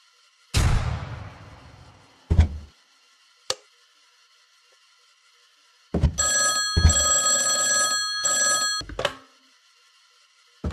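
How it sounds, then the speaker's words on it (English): An old-style telephone bell rings in two long bursts with a short gap between them, loud and close in a quiet room. A few short thumps and knocks come before and around the rings, and no one speaks. "When the phone rang, I was fast asleep."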